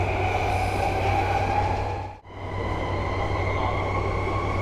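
Inside a JR Yamanote Line train on its inner loop, running with a steady low rumble and hum of wheels and motors, interrupted by a brief dip partway through before the rolling noise resumes.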